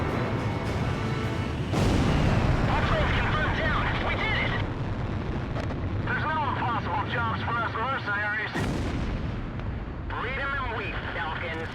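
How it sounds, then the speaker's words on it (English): Tail gunner firing in the aerial combat game Ace Combat Zero, bursts of rapid gunfire and booming blasts over a constant roaring jet engine, with a voice talking over the action. "Was the tail gunner still shooting at me?"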